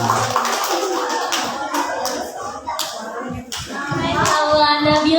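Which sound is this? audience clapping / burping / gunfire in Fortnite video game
audience clapping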